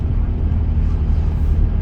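A straight-piped BMW 123d four-cylinder diesel with 240,000 miles rumbles at a steady, low, throbbing drone, loud and continuous throughout.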